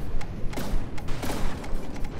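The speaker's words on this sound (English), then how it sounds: "Some good explosions too." Explosions in the naval combat game From the Depths: a series of heavy thuds and muffled blasts over a deep rumbling bed, irregular and close, with several distinct impacts in quick succession.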